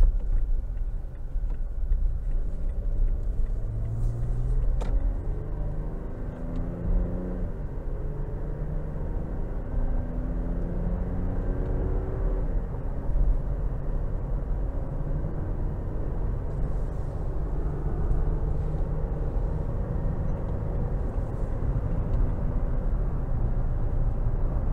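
A 2022 Toyota Tacoma SR5 with a 3.5 V6 accelerating in sport mode, its engine note rising and dropping through several distinct gear shifts under a constant road and cabin rumble.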